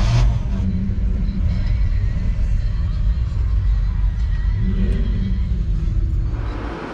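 A Chevrolet Bel Air with a 348 engine rumbles on Woodward Avenue on the Tuesday before the 2022 Dream Cruise. The heavy, steady engine drone stays close and loud, with crowd and voices in the background.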